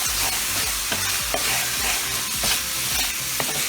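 Beef steak fries loudly in a pan with soy sauce, a steady close sizzle broken by repeated scraping stirs of the spatula.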